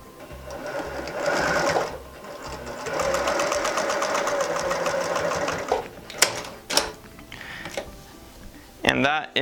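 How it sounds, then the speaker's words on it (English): A sewing machine runs in quick rattling bursts, stitching fabric for a drawstring bag steadily for a few seconds, pausing, then whirring again in shorter runs. "So I'm going to take this to my sewing machine."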